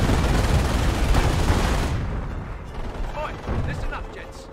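Heavy artillery rumble from an 88 gun in the video game Company of Heroes, a loud, roaring barrage that fades after about two seconds into quieter battlefield noise with voices speaking.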